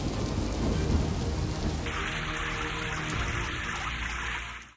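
Heavy rain pours steadily during a thunderstorm with a dense, loud hiss, and a low rumble of thunder runs underneath before the rain brightens and thins.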